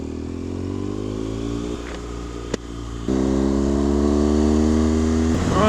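A motorcycle ridden on mountain roads in the Picos de Europa, its engine droning close by, easing off briefly, then revving louder as it pulls away again, with wind rushing past and no talk.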